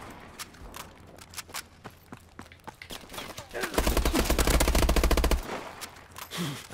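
Gunfire in the video game Call of Duty: Advanced Warfare: scattered single shots, then a loud, sustained burst of rapid automatic fire lasting over a second, followed by a few more sharp shots.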